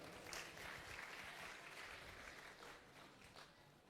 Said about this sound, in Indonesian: Tepuk tangan untuk Badiklat.